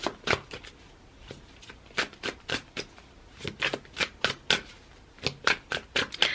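Tarot cards being shuffled in quick repeated riffles, about twenty crisp bursts in an uneven rhythm, close and fairly loud, with no talking over them.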